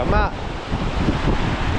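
Strong wind buffets a beach, a loud continuous roar of gusts hitting the microphone, with a brief spoken syllable near the start.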